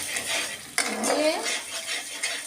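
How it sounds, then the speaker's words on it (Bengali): A utensil scrapes and knocks against a pan while mustard paste is stirred for a paneer dish, a brief clack followed by soft steady stirring over a faint sizzle. "সর্ষেটা দিয়ে কিন্তু আমি বেশিক্ষণ নাড়বো না, তাহলে তিতো হয়ে যাবে।"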